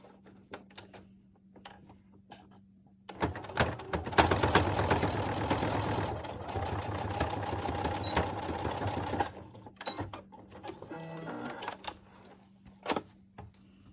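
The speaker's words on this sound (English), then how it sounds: "just sew on that same seam where you've already sewn" A sewing machine stitches along an existing seam over elastic on a fabric face mask, a steady close rapid chatter that runs for about six seconds between quiet handling, with no talk.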